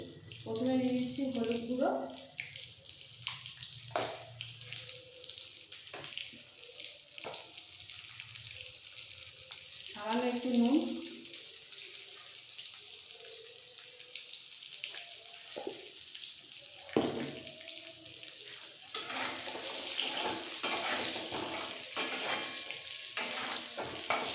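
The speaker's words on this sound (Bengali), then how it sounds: "সেদ্ধ করা আলুগুলো দিয়ে দিচ্ছি ভাজার জন্য" Boiled potatoes coated with salt and turmeric fry in hot oil for an egg dum biryani, with a steady sizzle and stirring scrapes while a voice talks at intervals.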